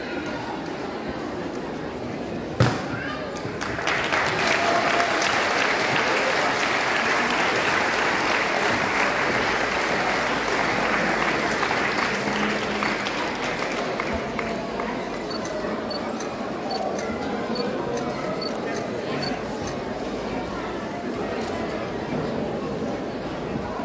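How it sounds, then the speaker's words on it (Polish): Applause for a women's category winner at a cycling award ceremony in Biała Podlaska, Poland, a broad sustained clapping from an outdoor crowd that swells after a sharp knock and continues for about twenty seconds with crowd chatter beneath. "Wielkie brawa"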